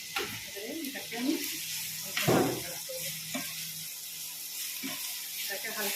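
Chopped onions frying in hot oil in a pan give off a steady, close hiss of sizzling that runs throughout, with a person talking over it.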